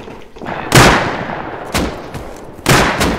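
Gunfire in the survival game Rust during a base raid: three loud bursts of shots, each a sharp crack followed by a decaying rumble, spaced apart over a low background.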